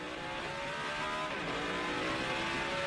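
NASCAR Sprint Cup race cars running around the track after a crash at the 2008 Chevy Rock and Roll 400, a dense continuous engine roar with faint tire noise, loud and steady throughout.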